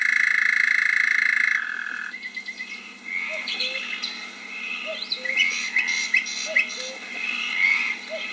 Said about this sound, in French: D'une mare proche s'élève un chœur de grenouilles rennais.